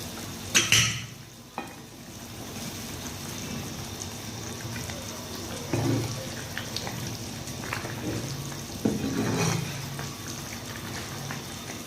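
Eggplant curry bubbling and sizzling softly in a pan in a home kitchen, with occasional stirring clatters and thumps over a steady low simmer, no voices.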